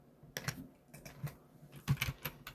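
Typing on a computer keyboard at a desk, a quiet irregular run of key clicks in short bursts, close and soft, with no talking.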